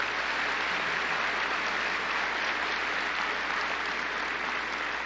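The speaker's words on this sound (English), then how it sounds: "I'm going to tell him about the spontaneous applause before I even finish" Dense, steady applause rises from a large audience at a presidential speech to the International Association of Chiefs of Police, a continuous wash of clapping held at a constant level throughout with no speech on top.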